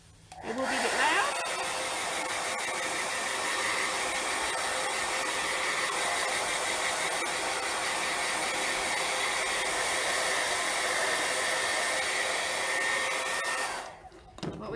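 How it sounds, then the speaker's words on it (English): A hair dryer blasting steadily at close range for about thirteen seconds while drying a freshly decoupaged paper notebook, a loud continuous rushing whine that cuts off near the end. "we will just blast that with the dryer"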